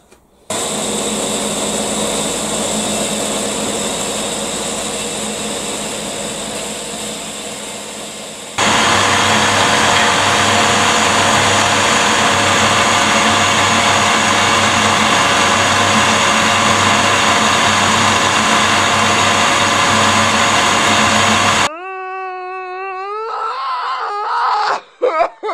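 A lathe motor hums steadily after being plugged in, then jumps louder partway through and runs on before cutting off abruptly, followed by a brief burst of voice.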